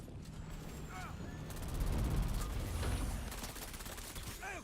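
Gunfire aimed at a sandworm in the video game Dune: Awakening, a dense rattling stream of shots with mechanical clatter and rumble, swelling in the middle and continuing under game noise.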